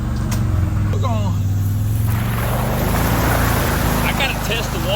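A vehicle crosses a creek on rural land, its engine droning loudly and steadily with splashing water throughout and someone talking over the noise.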